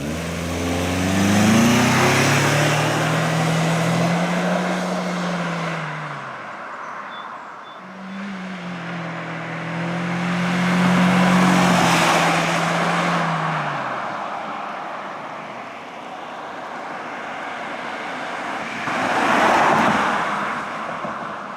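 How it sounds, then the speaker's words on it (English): A 2016 Nissan Sentra drives along the road, its engine and tyre roar rising and falling in long swells with wind rushing past, one steady engine note holding under the noise. "Let's go roll that little Sentra."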